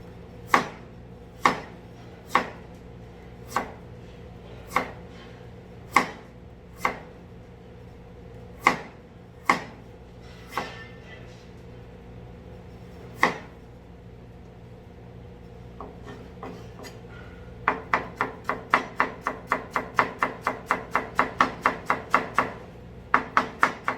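A knife thinly slices kimchi ingredients on a cutting board, with sharp, evenly spaced chops that turn into a rapid run of quick cuts near the end, heard alone and close.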